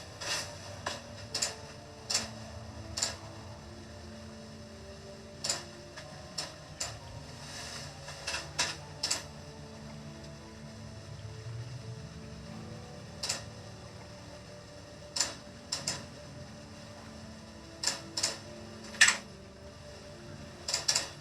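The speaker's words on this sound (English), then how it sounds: "It's just the sound of me clicking and using my keyboard." Computer keyboard and mouse clicks sound as sharp, scattered ticks over a low steady room hum, some in quick pairs or clusters and others isolated, with no talking.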